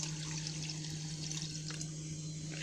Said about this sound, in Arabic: غادي نضيف عليهم عصير الليمون.